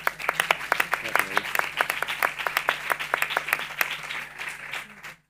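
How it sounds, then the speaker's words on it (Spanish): Applause greeting a speaker at a flamenco and education congress: distinct individual claps from a modest audience, fairly close, with a brief murmur of voices partway through before the clapping thins and stops. "a mí me gusta recibir a las personas con un fuerte aplauso"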